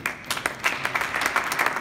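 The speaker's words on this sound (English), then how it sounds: "Please give yourself a hand of applause." A small group at a film premiere claps briefly, quick irregular hand claps sounding close and moderately loud for under two seconds.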